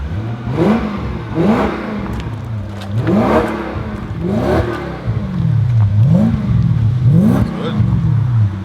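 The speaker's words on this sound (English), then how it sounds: "It's a burble, you can hear it's a V8." A V8 engine in a JDM-style BMW E21 show car revs repeatedly through a subtle exhaust, each blip rising and falling in a burbling rhythm, close and fairly loud, with voices talking over it.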